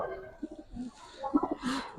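Soft, low cooing from silver Giribaz pigeons in a backyard loft collection, a few short murmuring calls close by, quiet and intermittent.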